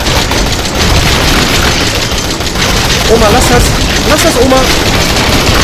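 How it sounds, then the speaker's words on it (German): Gunfire in the VR horror game Resident Evil 7, shots aimed at a creature's eyes: a dense, loud barrage of booming shots that runs throughout, under a German-speaking player who shouts over the action. "Ich schieß auf die Augen!"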